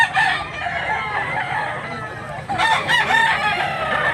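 A rooster crows loudly nearby in Mantalungon, Cebu, its long call rising over a background of clucking fowl and faint ambient noise.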